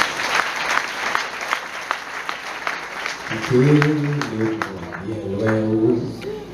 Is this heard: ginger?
no